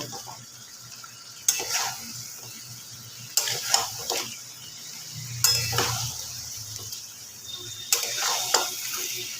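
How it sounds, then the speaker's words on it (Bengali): Chicken is stir-fried in a pan over raised heat, with a steady sizzle that flares as a utensil scrapes through it. Four clattering bursts of stirring come every couple of seconds, with no talk. "গ্যাসটা একটু বাড়িয়ে দিয়ে চিকেনটা আবার একটুখানি ভালো করে কষে নেব"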